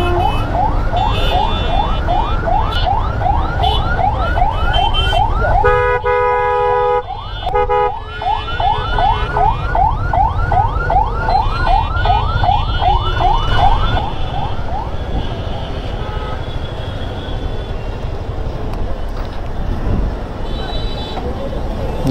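An ambulance siren wails in rapid rising-and-falling cycles while the vehicle is stuck in a traffic jam. The siren is loud over constant street noise, fades after about fifteen seconds, and people talk nearby.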